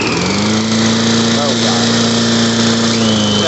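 A rebuilt Chinese moped engine with a new carburetor running at a steady, loud idle, a continuous buzzing drone that holds even pitch close up, with a voice briefly heard over it.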